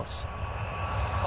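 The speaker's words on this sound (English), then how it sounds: "The engines are brought to full power for the first time." An Airbus A380 roars with its engines at full power during the takeoff roll, a loud, dense and steady blast that carries through the whole brief moment.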